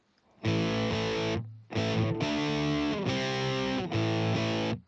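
A Telecaster electric guitar with distortion plays the chorus riff of a rock song, a loud, driving chord pattern in several sustained bursts separated by brief gaps, close and alone with no talk.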